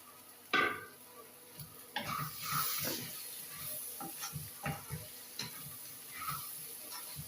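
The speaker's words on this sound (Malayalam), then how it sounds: "അതിലേക്ക് നമ്മൾ കഷ്ണങ്ങളാക്കി വെച്ചിരിക്കുന്ന ഉരുളക്കിഴങ്ങ് ഇട്ട് കൊടുക്കുകയാണ്" Potato pieces dropped into a pan of sautéed onions, frying with a soft steady sizzle punctuated by scattered clinks and scrapes of a utensil against the pan, close and moderately quiet, with no voices.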